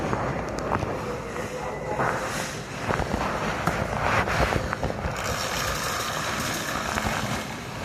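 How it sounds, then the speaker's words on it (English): A passing train gives a steady broadband rumble and roar that holds at an even level throughout, with faint talk beneath it. "I guess that's his train."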